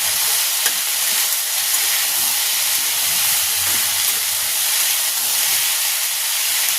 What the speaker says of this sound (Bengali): আবারও নেড়ে দিচ্ছি।